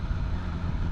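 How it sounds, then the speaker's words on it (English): Wind roars over the microphone on a moving motorcycle, a steady, dense rumble with engine and road noise underneath. "it is pretty windy"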